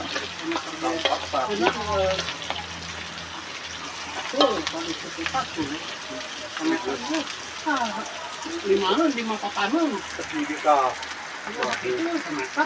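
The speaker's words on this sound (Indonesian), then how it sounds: "Goreng bumbu." Spice paste fries and is stirred in a pan at a rustic outdoor Sundanese cooking spot, with a steady sizzle and repeated scraping strokes running throughout, while voices talk over it intermittently.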